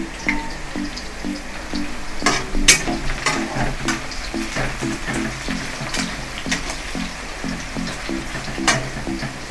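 Onions fry in hot oil in a pan, a continuous close sizzle with soft crackles and occasional louder spits, steady throughout with no talking.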